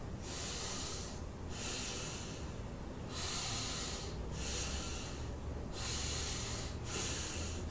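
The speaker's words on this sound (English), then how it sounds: "start taking deep breaths in and out" Slow, deep breaths in and out, drawn through the nose with a soft hissing, snorting texture and several clear cycles. The breathing is close and steady, with no talking.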